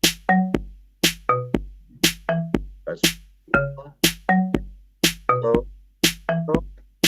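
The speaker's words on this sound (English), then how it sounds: "That's the entire bass line pattern." A synthesized bass line repeats a short punchy pattern of plucky notes, loud and rhythmic, looping about seven times with no talking.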